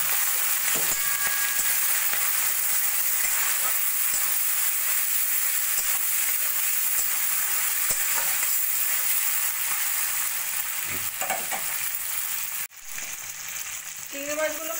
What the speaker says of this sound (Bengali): এবার আমি চিংড়ি মাছগুলোকে ভেজে নেব।